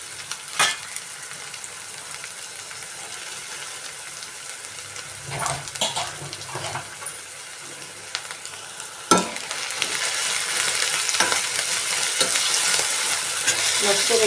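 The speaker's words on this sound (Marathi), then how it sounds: "मस्तपैकी हा टोमॅटो आणि कांदा आला लसूण पेस्ट चांगली आपण तेलामध्ये परतून घ्यायची." Finely chopped tomato, onion and ginger-garlic paste sautéing in oil in a pan. A steady close sizzle runs under occasional clinks and scrapes of stirring, then swells louder and brighter near the end.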